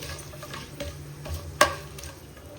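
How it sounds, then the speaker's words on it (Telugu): Biryani spices frying in ghee and oil in a pan, a soft steady sizzle with light stirring and one sharp clink of a utensil partway through. "ఇప్పుడు ఈ బిర్యానీ మసాలాలన్నీ కొంచెం ఫ్రై అవ్వాలి."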